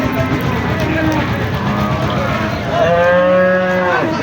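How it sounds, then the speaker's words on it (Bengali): A cow lets out a long, loud moo over the steady bustle and chatter of a busy crowded cattle market. "এখন হাটে গরু আসতেছে টাকে টাকে গরু আসতেছে"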